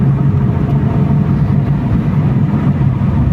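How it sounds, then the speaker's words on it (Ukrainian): A petrol Opel Vectra B with a freshly replaced fuel filter revs up, its engine a loud, steady low rumble that fills the whole moment without pause. "Дивіться, як машина різво розганяється"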